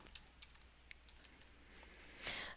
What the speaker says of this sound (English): So I'm going to type in one I think is complicated enough